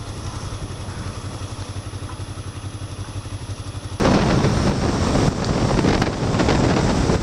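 Kawasaki GPZ500S motorcycle riding along, a steady engine drone under heavy wind buffeting that grows suddenly louder and rougher partway through.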